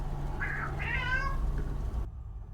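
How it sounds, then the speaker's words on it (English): A pet cat yowls and meows loudly at close range, two drawn-out cries in quick succession over a steady low hum, then the sound cuts off abruptly. "My cat is yelling again"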